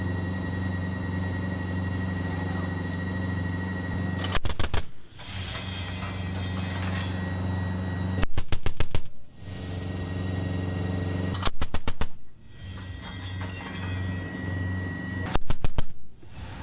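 A Gepard anti-aircraft tank fires its guns at drones: four short, loud bursts of rapid cannon fire, roughly evenly spaced, cut through a steady low engine hum.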